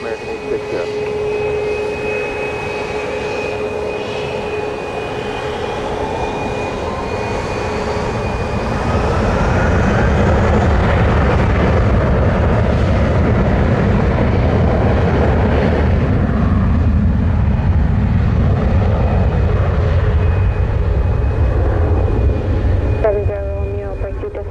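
American airliner taking off from runway 07 at Montego Bay, a broad jet roar swelling from a distant whine into a loud sustained rumble, with radio chatter overlaid.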